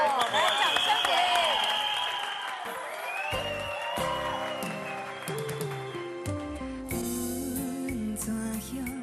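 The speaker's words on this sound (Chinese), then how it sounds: "来来，掌声给" A studio audience at a 2007 Taiwanese variety comedy show breaks into dense, loud applause for about three seconds, then it gives way to music with clapping fading beneath.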